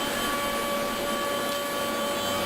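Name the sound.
vacuum hold-down on a panel cutting machine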